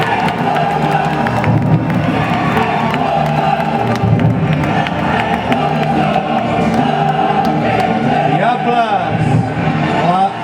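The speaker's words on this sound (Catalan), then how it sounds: "un fort aplaudiment." Crowd at the Nit del Foc fire festival in Barceloneta greeting the Diables with loud, sustained cheering, whooping and applause, as an amplified voice speaks over the noise.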